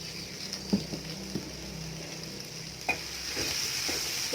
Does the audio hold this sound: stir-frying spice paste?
yes